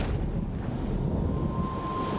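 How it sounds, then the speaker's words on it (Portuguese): Strong wind gusting across the Sierra Nevada mountains at nightfall, a constant heavy low roar with buffeting rumble, loud and steady throughout. "No comecinho da noite, um vento forte começa a soprar, perturbando sua paz."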